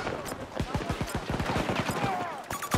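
Heavy video game gunfire rattles in rapid bursts, a dense rapid-fire clatter with shouting voices over it.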